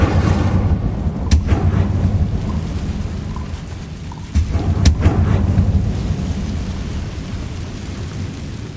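An Incendio fire spell is cast in the video game Hogwarts Legacy. Two sharp cracking bursts land a few seconds apart over a steady, rumbling, storm-like game ambience with a continuous low roar underneath.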